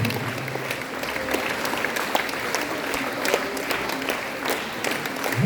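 A church congregation applauding in acclaim of Jesus, a sustained, fairly loud roomful of clapping with a few faint voices mixed in.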